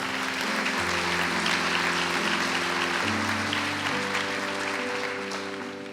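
A church congregation applauds in a steady, dense wave of clapping over sustained organ or keyboard chords, slowly fading toward the end.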